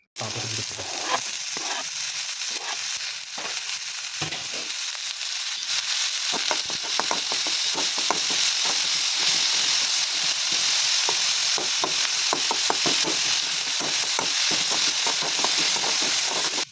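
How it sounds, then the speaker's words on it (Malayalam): Chopped onions sizzle and fry in hot oil in a pan while being stirred, a steady loud crackling hiss with repeated scraping stir strokes, mostly free of talk; a Kerala-style mussel fry being prepared. "ഇനി നമ്മുടെ ഉള്ളിയൊക്കെ അതിലേക്ക് തട്ടി കൊടുക്കാം. ഇനി നന്നായിട്ടൊന്ന് ഇളക്കിയെടുക്കാം."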